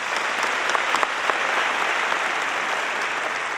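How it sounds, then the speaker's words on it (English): Crowd at a high school graduation ceremony clapping, a steady wash of applause from many people filling the hall, moderately loud and even throughout, with a few sharper individual claps and no speech. "we can give them a round of applause."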